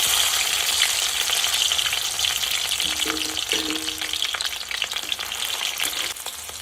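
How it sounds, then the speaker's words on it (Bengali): Cut capsicum, whole garam masala and two bay leaves fry in hot oil, giving a loud, dense, continuous sizzle up close with faint stirring crackles and no voices. "আর এখানে কেটে রাখা একটা ক্যাপসিকাম আমি দিয়ে দিলাম।"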